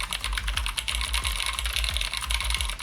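Fingers type quickly on a mechanical keyboard with clicky switches, a close, steady patter of sharp clicks and thocks with no talking.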